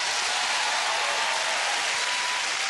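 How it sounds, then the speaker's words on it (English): Sustained applause from the studio audience of the television game show All Star Family Fortunes, loud and steady throughout with no talk over it. "Give them a big round of applause."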